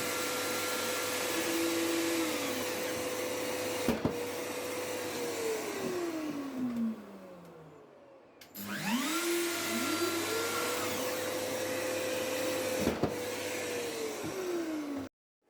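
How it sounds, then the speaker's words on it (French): A router fitted with a copy ring and a small straight bit cuts into a workbench, whining loudly, then winding down, then spinning back up and winding down again with a falling pitch. "Avec une bague à copier du diamètre du trou du côté de mon établi et une fraise droite de petit diamètre, je trace le centre des trous"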